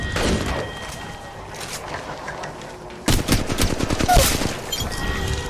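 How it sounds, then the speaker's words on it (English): Bursts of Havoc rifle fire in the mobile shooter Apex Legends Mobile, a brief rapid volley near the start and then a louder, denser automatic burst in the second half, with no talk. "Oh man, this Havoc recoil is like crazy."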